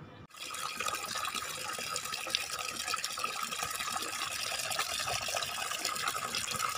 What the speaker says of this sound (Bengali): এখন বালতিটা ভরে নিচ্ছি, গাছে জল দেবো।